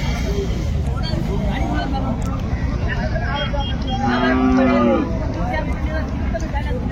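A cow with her calf at a busy rural cattle market gives a short low moo partway through, heard over a constant crowd murmur and background noise.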